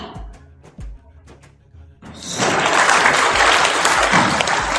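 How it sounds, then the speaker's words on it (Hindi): An audience at a live political event in Rajasthan bursts into loud, sustained applause after a few isolated claps, the dense clapping filling the rest of the clip. "अरे ताली जोरदार बजा भाई आप लोग।"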